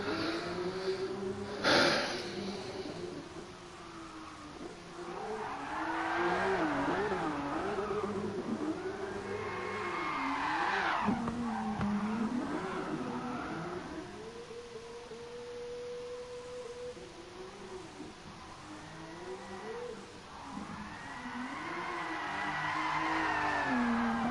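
A car drifting on the Nordschleife in GT Sport, engine revving up and down through gear changes with long tyre squeals as it slides through corners, a steady close drone with no talk.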